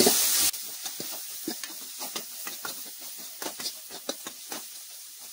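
Broad beans frying with chili powder in a pan start with a brief loud sizzle, then a spoon scrapes and stirs in quick, irregular strokes over a soft, steady hiss.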